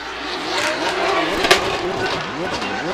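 A Toyota 86 drift car with a 1GR V6 twin-turbo engine revs and stutters under throttle trouble during drift qualifying at Ebisu, Japan, its loud wavering engine note rising and falling under a commentator's voice.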